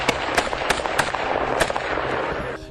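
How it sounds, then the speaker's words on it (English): A rapid string of sharp gunshots cracks out at irregular intervals, loud and close, with no voices. "Without warning, gunfire erupted."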